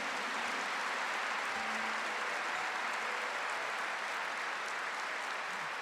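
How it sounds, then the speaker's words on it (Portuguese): A church congregation applauds during a priest's homily, dense sustained clapping filling the whole stretch at an even level, no voices over it. "Isso merece uma salva de palmas."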